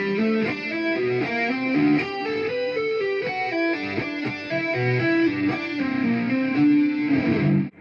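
A distorted electric guitar plays a solo run with quick hammer-ons and string skipping, a steady stream of sustained, effect-laden notes from start to finish with no talking, then it cuts off at the end.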